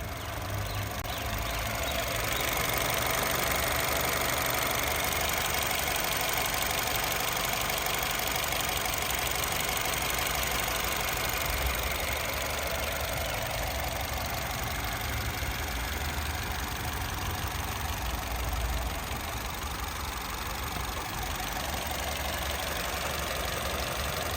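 A 2009 Honda City automatic petrol engine idles steadily for the whole stretch, a constant low rumble with a slight mechanical knock and no other sounds.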